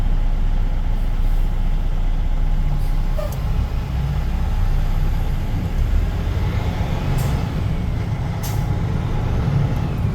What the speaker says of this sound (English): They're probably more interested in that spinning thing next to me here with the concrete in it.